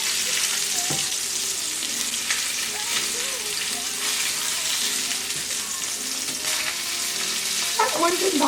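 Salmon burgers fry in a pan with a loud, continuous close sizzle, joined near the end by a few scraping clatters.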